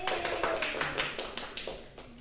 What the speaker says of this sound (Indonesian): Silakan tepuk tangan untuk perwakilan kelompok.